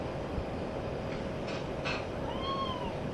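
A small kitten of about eight months gives a brief, faint meow near the end, heard over a constant low rumbling background.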